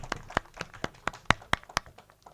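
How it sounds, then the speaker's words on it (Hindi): Audience clapping at a mushaira in Hyderabad as guests are welcomed, thin and scattered, with sharp separate claps at an uneven rhythm that fades out toward the end. "तालियां आपकी तरफ से होनी चाहिए।"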